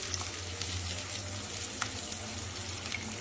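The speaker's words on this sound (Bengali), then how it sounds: "পেঁয়াজটা দিয়ে ভাজা ভাজা করবো নরম হওয়ার জন্য।" Cubed onions fry in hot oil, a steady soft sizzle and crackle with a few faint pops and clinks, close by and fairly quiet, without any talking.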